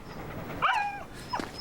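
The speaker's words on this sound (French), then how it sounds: "Le gentil toutou." A dog whimpers in two short, high, whiny bursts, the first fairly close and distinct, the second briefer, against a quiet background with no talking.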